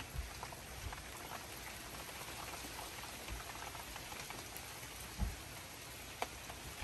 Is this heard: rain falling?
yes